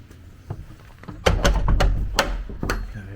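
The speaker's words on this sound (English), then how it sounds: "Right, let's close the door." A heavy old church door swings shut, with a series of loud wooden thuds and knocks clustered in a couple of seconds, close by, after a quieter shuffle.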